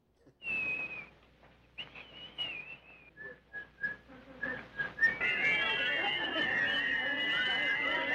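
A person whistles a tune of short and held notes, starting alone and then over a denser, brighter backdrop of crowd babble and more whistling that fills the last few seconds at steady volume.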